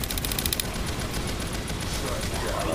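Gunfire in the Aliens: Fireteam Elite video game crackles in dense rapid bursts, with quick repeated shots at the start and a continuous barrage of game combat noise throughout.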